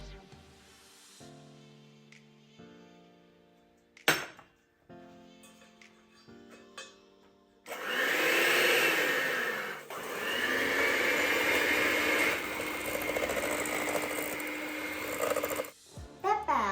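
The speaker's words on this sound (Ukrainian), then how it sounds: "Збиваємо цукор та жовтки." An electric mixer beats sugar and egg yolks in a bowl for peach-shaped pastries, a loud steady whirring drone that starts partway through and runs for several seconds, briefly dipping, after quieter kitchen clinks and tonal beeps.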